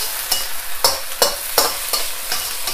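Pak choi with ginger and garlic frying in oil and sesame oil makes a steady sizzle, with about six sharp scraping stirs from a utensil close up as the juices cook off.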